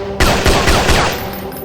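Rapid gunfire in a video game, bullets striking off a damage-zone collider, a loud, close burst of repeated shots that begins abruptly and trails off into ringing.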